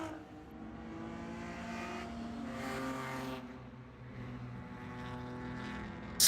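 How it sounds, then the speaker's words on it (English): A North Loop Motorsports BMW race car at Road America, its engine a steady droning roar with shifting pitch, moderately loud and unbroken, rising slightly as it passes. "here is the North Loop Motorsports BMW trying desperately to stay on the lead lap"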